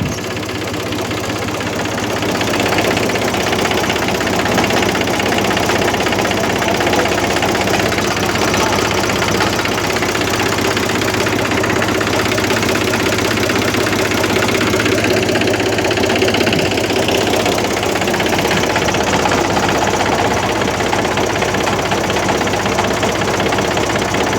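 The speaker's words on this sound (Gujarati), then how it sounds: "ટ્રેક્ટર આવી ગઈ છે. જુઓ," A Mahindra tractor engine runs loudly and steadily, with a low, knocking rumble that continues without pause and sounds close by.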